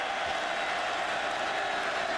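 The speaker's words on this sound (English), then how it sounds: "the crowd trying to come to life for the Buckeye defense" A stadium crowd at a 2010 Ohio State versus Miami college football game roars steadily for the Buckeye defense, a dense, continuous wash of cheering and noise filling the whole moment without breaks.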